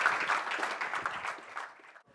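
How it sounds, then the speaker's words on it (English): An audience applauds a compute panel at an AI founders event: a dense, steady wash of clapping that fades over about two seconds. "a round of applause for our compute panel"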